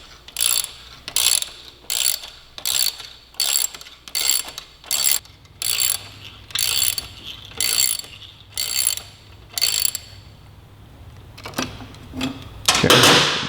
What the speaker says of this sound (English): move to a ratchet. It's going to give me a little more torque